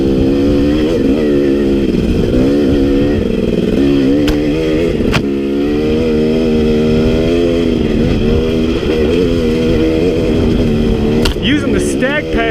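A KTM 250XC dirt bike engine revs hard and steadily on a hill climb, loud and close, its pitch rising and falling through gear changes, with a few sharp clatters along the way.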